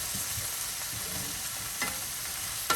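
Zucchini and onions sizzle steadily in a hot pan for ratatouille, a continuous close frying hiss broken by soft scrapes and clicks of stirring, with no talking.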